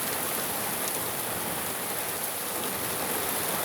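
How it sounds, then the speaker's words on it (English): Steady rain falls in Earp, California as the wind picks up, making a dense, even hiss of drops on surfaces close by, with no voices. "it's starting to rain more"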